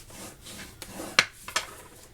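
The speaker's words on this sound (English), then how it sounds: "I'm going to go ahead and burnish this with my bone folder so it stays down better." A bone folder is rubbed firmly over paper to burnish a file-folder pocket, giving soft scraping strokes with two sharper rasping swipes near the middle, fairly quiet and close, no talking.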